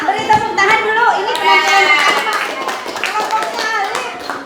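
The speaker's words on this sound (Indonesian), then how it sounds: "Kelompok 5, beri tepuk tangan dulu." A classroom of seventh-grade students claps for a student group, a dense, close burst of hand clapping mixed with children's voices and chatter throughout.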